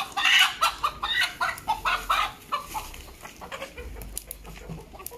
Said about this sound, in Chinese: 母鸡、阉鸡都有。